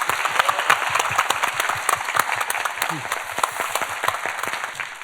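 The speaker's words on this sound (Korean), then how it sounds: "큰 박수로 맞아주세요." A church congregation gives a pastor a big round of applause as he comes up to preach, a dense, continuous roar of many hands clapping with sharp individual claps standing out and a brief voice underneath.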